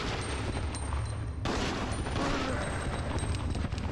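Gunfire in Resident Evil Outbreak File 2, a loud continuous barrage of shots with a brief break midway, over dense background game noise and no talk.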